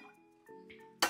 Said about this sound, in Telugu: చిన్న గిన్నె పెట్టేశాను